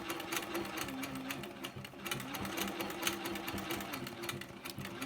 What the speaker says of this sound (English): I'm just going to stitch these lines however